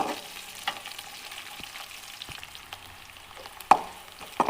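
Onions fry in a pan for a brinjal tomato curry with a low, steady sizzle, punctuated by a few scattered spatula knocks and one sharp clack.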